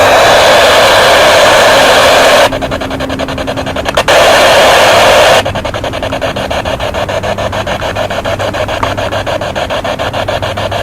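A Spirit Box ghost-hunting radio scanner is switched on during a paranormal session, giving loud, steady hiss and static with rapid choppy sweeping bursts between brief smoother stretches, no voices.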